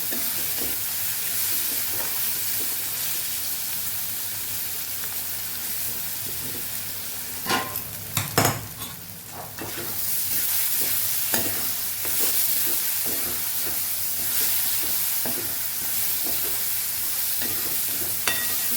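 Onions sizzle steadily in oil in a pan for Kathiawadi onion-tomato shaak while being stirred, with clattering scrapes of the spoon around the middle and a continuous close frying hiss throughout.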